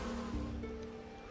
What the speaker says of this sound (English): Bees are agitated.